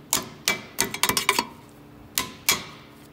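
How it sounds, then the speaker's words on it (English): A hammer tapping a brake pad retaining pin on a Bendix air disc brake, about ten sharp metallic knocks, close and loud, in an irregular cluster followed by a pause and two final taps. "Give it a couple taps with your hammer, loosen that pin up."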